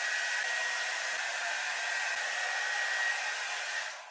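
A hair dryer blows steadily and loudly at close range while drying fine, thinning hair, its even whooshing hum holding constant before tapering off at the very end.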